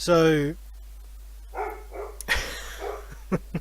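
A pet dog barks loudly up close at the start, then gives fainter, scattered yips and barks behind someone talking outdoors by a back fence.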